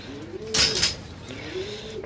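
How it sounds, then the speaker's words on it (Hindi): Pigeons coo close by in two soft, low rounds, the first cut by a brief loud rustle or flutter, then a second coo; quiet outdoor background. "बाहर आ गए कबूतर साढ़े"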